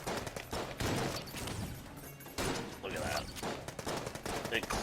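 A Tesla machine pistol in a video game fires in rapid bursts, crackling shots stacked densely with brief gaps between volleys, loud and close, with a voice talking underneath.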